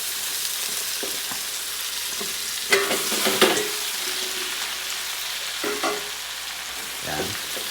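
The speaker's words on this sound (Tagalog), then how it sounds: "Lalagyan na natin itong chicken feet." Chicken feet sizzle steadily in a pan while a utensil stirs them in a few scraping bursts, close and moderately loud with no talking.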